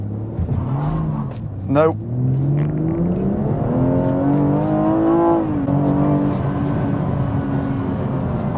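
BMW M240i accelerating hard from a standing launch with stability control off and the gearbox in Sport, engine note climbing steadily through the revs and holding loud and close to the microphone for several seconds.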